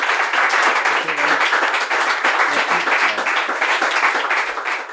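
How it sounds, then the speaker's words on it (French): Audience applause at the end of a French-language podcast episode about running, steady dense clapping throughout, loud and sustained with no speech over it. "On l'applaudit."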